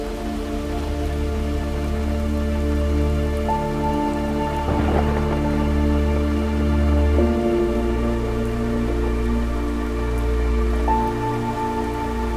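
Steady rain falls in the mountains in a continuous dense hiss that stays loud and even throughout, with a brief rumbling swell near the middle and a constant low hum underneath.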